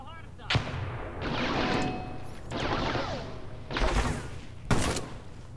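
Shotgun blasts in America's Army: Proving Grounds, a few sharp loud shots spaced a second or two apart amid heavy gunfire, with players chatting over them.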